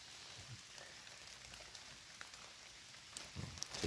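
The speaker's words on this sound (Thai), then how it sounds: "ใส่ฝนโปรยไปลงมา" Light rain drizzles down in a mushroom forest, a faint, steady hiss of fine drops that grows a little busier toward the end, with no other clear sounds.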